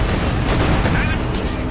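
An IS-2 tank fires on grenadiers in the video game Company of Heroes 2, a dense, continuous barrage of loud battle gunfire and blasts with no pause.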